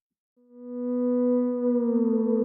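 A Yonac Thereminator 2 theremin app played through StellarVox reverb, a single sustained pure tone that swells in smoothly, holds a steady pitch with a gentle wavering vibrato toward the end, loud and alone.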